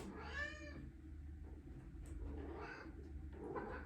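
A pet cat meows indoors with a couple of short, close calls, the first one clear and drawn out, followed by quieter mews over a steady low background hum.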